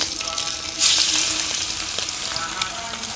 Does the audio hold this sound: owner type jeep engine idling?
no